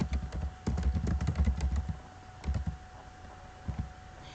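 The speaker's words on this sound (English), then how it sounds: "So I'm going to type the history of koalas." Text typed on a computer keyboard into a Word document header, a close, steady patter of key clicks in quick bursts that thin out toward the end.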